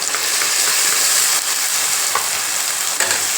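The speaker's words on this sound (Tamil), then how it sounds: "தக்காளியோட பச்சை வாசனை போகிற அளவுக்கு நல்லா வதக்கலாம்" Ground tomato paste sautéing with onion, garlic and curry leaves in a pan gives a loud, close, continuous sizzle, with a few spatula scrapes and taps cutting through.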